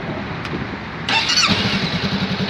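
A motorcycle engine cranks and catches about a second in, then settles into a throbbing, close-up idle.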